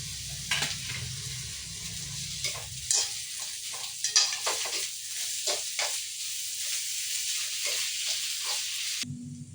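Crushed ginger and garlic frying in oil for a squid roast, a continuous close sizzle broken by repeated scrapes and stirs of a spoon in the pan.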